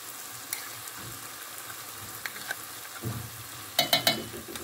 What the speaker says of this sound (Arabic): وغادي نحرك مزيان